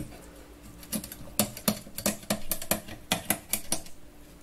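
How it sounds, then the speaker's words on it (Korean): A knife crunching through the rib bones of a 4.8 kg tuna, a series of sharp, dry cracking snaps in irregular bursts, fairly close and alone without talk. "자, 지금 들리는 소리는 갈비뼈를 끊어주는 소리인데,"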